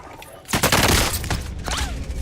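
Loud burst of gunfire from Modern Warfare: Warzone, a sudden dense volley of shots erupting after a quiet start, followed by continued firing and a sharp whizzing sweep near the end.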